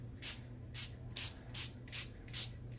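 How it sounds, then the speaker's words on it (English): A hand spray bottle spritzes water onto craft paper in six short hissing bursts at roughly even intervals, quiet and close with a faint steady hum between them. "so I'm just going to spritz these a bit."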